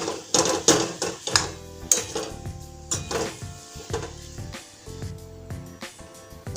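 Steamed potatoes with masala stirred in a pan, a spoon clanking and scraping against the metal in quick irregular strokes, close and fairly loud.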